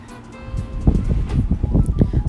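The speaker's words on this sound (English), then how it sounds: "Wow, it's so windy out here." Gusty wind buffets and rumbles outdoors in uneven bursts, growing stronger as it goes.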